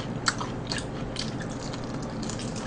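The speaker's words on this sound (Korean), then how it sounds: "튀김옷도 그렇게 두껍지 않고 바삭바삭하고" Crunchy bites into crispy fried chicken with a thin batter coating, a sharp crackle near the start followed by softer, steady chewing and crunching close up under a hissy background.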